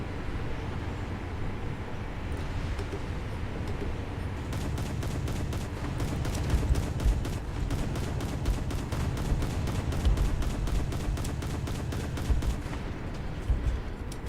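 Rapid volleys of heavy naval gunfire from an Italian light cruiser, the Bartolomeo Colleoni, in War Thunder, with dense, rhythmic booming salvos repeating steadily over a rumbling battle backdrop.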